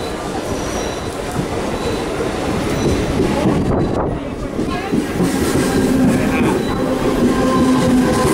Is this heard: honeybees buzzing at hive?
no